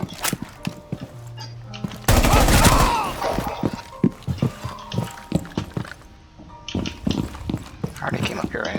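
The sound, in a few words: gunfire in Rainbow Six Siege video game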